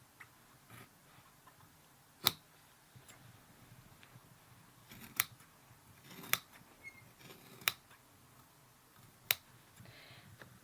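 Scissors snip through fabric being trimmed for a coffee table ottoman cover, giving about six crisp, isolated cuts spaced a second or so apart over faint room noise.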